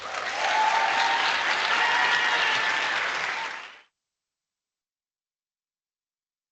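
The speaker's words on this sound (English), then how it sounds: "give him a round of applause" A talk audience applauds at a TED Talk Tuesday event, a dense, steady wash of clapping from a crowd lasting several seconds before cutting off abruptly into silence.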